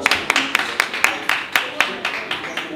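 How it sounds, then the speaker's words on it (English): Brisk, evenly spaced hand claps from a small audience at Jazzy Blu ring out in a steady rhythm, close and fairly loud, with talk in the room underneath. "give her a round of applause"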